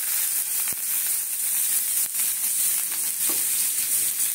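Onion added to hot oil for a potato curry: a loud, steady, close sizzling hiss with a few sharp crackles and spits, and no pauses.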